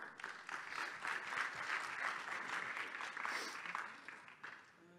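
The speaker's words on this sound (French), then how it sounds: "Sous vos applaudissements, évidemment." Audience applause at a business startup day event, a sustained round of clapping from a crowd, fairly quiet and distant, swelling and then tapering off near the end.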